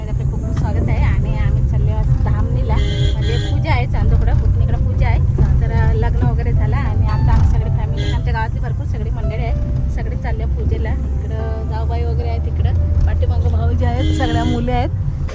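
A car drives along a village road in the Konkan region, its low engine and road rumble running continuously beneath loud voices that dominate the foreground.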